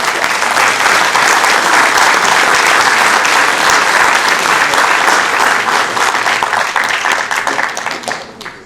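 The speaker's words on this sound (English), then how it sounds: "Another round of applause for our." An audience at a city council meeting gives a sustained round of applause, dense and loud clapping that holds steady before tapering off at the end.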